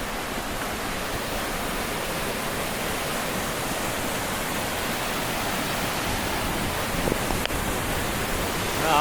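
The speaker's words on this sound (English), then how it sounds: "And now we are at another waterfall, number 3." Waterfall on the Perimeter trail near Ouray, Colorado, heard as a steady, dense roar of rushing water that fills the scene at close range without a break.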